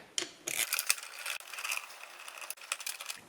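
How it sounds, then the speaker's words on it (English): A ratchet with a 10mm socket removes a part from a Kawasaki Z900RS motorcycle while luggage is installed, producing quick, close metallic clicks and ratcheting bursts with small handling knocks. "That was a 10mm socket I used to remove this."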